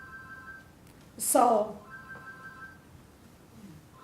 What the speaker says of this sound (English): I wonder if it's my alarm in my iPad.